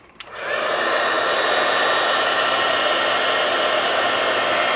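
A handheld embossing heat tool blasts steady, loud hot air over clear embossing powder, switching on with a click and then holding a constant whooshing roar with no talk.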